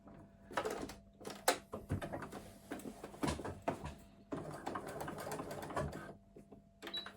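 A sewing machine stitches the bottom seam of a fabric crossbody bag in short, stop-start runs of quiet mechanical whirring, with small clicks and pauses between bursts.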